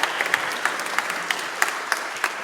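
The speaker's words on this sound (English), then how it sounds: "One more round of applause." A conference audience at a panel session on decentralized science and aging research applauds steadily, a dense wash of clapping with a few louder individual claps standing out.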